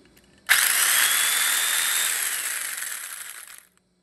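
A plugged-in electric carving knife motor whirs on abruptly, a loud steady high-pitched buzz that holds for about three seconds, slowly weakening, then cuts off cleanly, with no talking.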